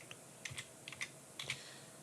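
Short burst of typing on a computer keyboard, entering a template name in trading software, with a few quick separate clicks and light clusters of keystrokes, close and fairly quiet, without speech.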